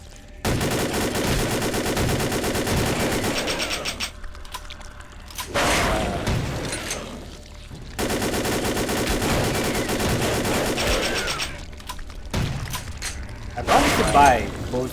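Shotgun fire and combat in Vampire the Masquerade Bloodlines, long stretches of loud rapid gunfire with heavy blasts, broken by brief lulls and mechanical clatter, with a voice talking in places.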